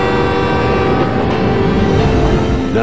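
A train approaching in a 1990s film scene: a loud, continuous rumbling roar with sustained tonal whine, like a horn or wheel screech, filling the whole moment without voices.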